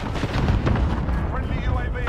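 A thermite grenade bursts close by in a video game, a loud rumbling boom with crackling debris that fills the short moment, while a player speaks over it.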